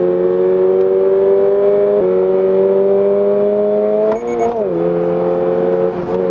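A Toyota GR86 sports car engine accelerates on a track, its loud, close drone climbing steadily in pitch, with brief dips at gear changes before rising again.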